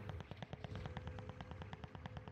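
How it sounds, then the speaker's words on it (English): Rapid gunfire from a player's weapon in a sniper-support squad video game, a quick rhythmic string of shots at moderate level, with no talk over it. "I'm shooting."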